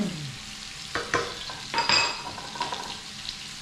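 Fish cooks in butter in a pan with a soft, moderate sizzle, broken by a few brief clinks and scrapes of a utensil against the pan.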